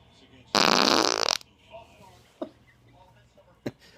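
A single loud, drawn-out fart sounds up close, followed by a few faint short noises.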